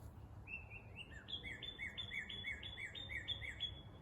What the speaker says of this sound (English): hear the birds there